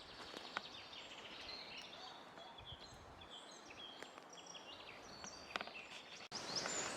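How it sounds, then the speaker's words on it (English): Birds sing faintly in English wild garlic woods, with scattered high chirps and calls drifting over a quiet, still forest backdrop and no voices. "I can hear the birds in the background."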